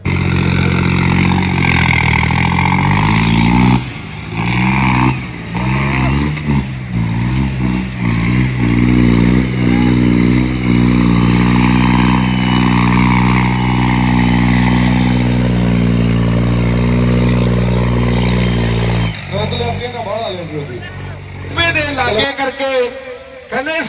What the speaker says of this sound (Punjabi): ਆਪਣੇ ਮਿੱਤਰ ਚੱਲਣ ਲੱਗਿਆ ਟਰੈਕਟਰ